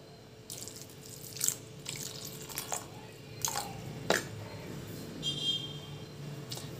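Water is poured over moringa flowers in a pot, with scattered splashes, drips and trickles coming in short bursts, close and fairly quiet.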